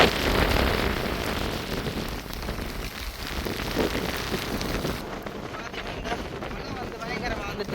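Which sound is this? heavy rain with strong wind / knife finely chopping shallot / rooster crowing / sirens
heavy rain with strong wind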